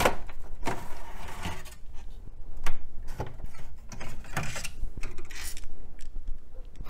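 Hard drives and screws being removed from a Dell computer system, with close, irregular metallic clicks, scrapes and rattles of drive caddies and fasteners through the whole stretch, no talking.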